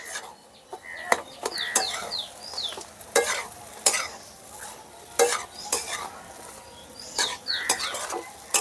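Semolina halwa with ghee and fried dry fruits being stirred in a frying pan, with a spoon scraping and clinking repeatedly over a soft sizzle, close and steady.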